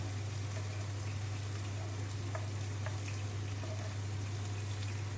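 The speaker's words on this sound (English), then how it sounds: "We let the onions and chilies fry in all that goodness for a while" Onions and chilies fry in hot oil in a pan, a dense, even sizzle held close and constant for several seconds over a low steady hum, with no speech.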